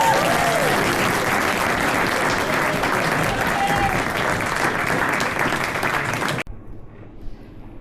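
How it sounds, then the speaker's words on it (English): Wedding guests at a country house applaud the ring bearer with a loud, dense burst of clapping that holds steady for several seconds and then cuts off abruptly, leaving faint room noise. "Give our ring bearer a round of applause."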